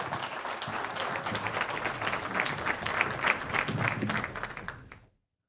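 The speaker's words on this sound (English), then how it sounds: "A big round of applause." An audience at an innovation talk on EQ and AI applauds as a speaker is welcomed to the stage, steady dense clapping for about five seconds that ends abruptly.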